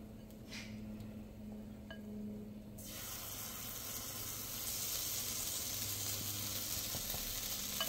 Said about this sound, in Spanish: Vamos a ponerle nuestra salsa que ya teníamos lista. Vamos a regársela completamente